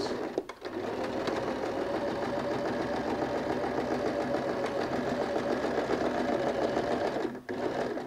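A sewing machine runs steadily while stitching bias tape, a close, even mechanical whir with rapid needle clatter that starts and stops briefly at both ends.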